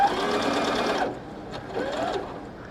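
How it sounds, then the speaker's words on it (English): An electric sewing machine stitches a fabric hair scrunchie in a quick, close whir that runs for about a second and stops, then gives a couple of shorter, fainter bursts. "just kind of pull it out gently as we're going so we don't sew through two layers of fabric here"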